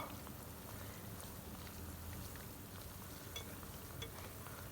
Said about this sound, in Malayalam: ജിലേബി ഒന്ന് ഇളക്കി കൊടുക്കട്ടോ